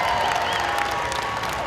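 Crowd applause for the real Disney Jungle Cruise skippers at the Jungle Cruise film premiere, a brief dense burst of clapping with some cheering, steady and close throughout.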